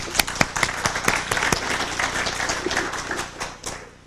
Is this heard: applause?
yes